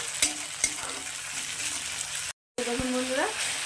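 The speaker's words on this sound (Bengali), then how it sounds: "আদা রসুন বাটা তো এটাকে এখন আমি এর সঙ্গে খুব ভালো করে ভেজে নেবো" Ginger garlic paste frying with onions in hot oil, a steady close sizzle with a few sharp spoon scrapes and stirring clatters against the pan, broken by one brief gap.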